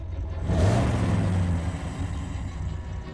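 A car engine idles and revs in a low, steady rumble with a brief swell early on, then keeps running evenly until the end.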